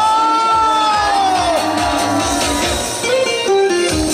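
At the 20th Yangpyeong Danwol gorosoe sap festival, an outdoor crowd cheers with whoops, shouts and children's voices, a loud, sustained roar with tonal sounds running through it.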